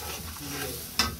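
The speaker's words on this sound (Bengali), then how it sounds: "মশলাটা ভালো মতো কষিয়ে নিয়েছি" Masala with salt and green chillies frying for a pangas fish dish, a soft steady sizzle broken by one sharp scrape of a spoon against the pan.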